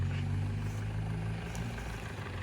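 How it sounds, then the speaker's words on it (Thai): A Nissan Urvan 3.0 turbo intercooler van engine idles close by with a steady, smooth hum, low and even throughout with no talking. "นิ่มนะครับเสียงเครื่องนิ่มมากนะครับ"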